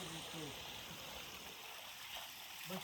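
Water from the hills pours steadily through a pipe near rice fields being prepared for planting, a continuous broadband rush with someone talking briefly at the start and end.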